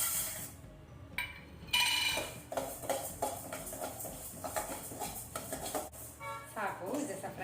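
Flax seeds fry and get stirred in a pan while making dink laddoo, a soft scraping and clinking of a spoon against metal with light crackle, quiet and close, with a few brief voice-like sounds.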